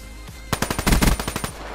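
Weevil rifle in Black Ops 3 firing a rapid burst of about ten sharp, loud automatic shots in quick rhythm, close and alone.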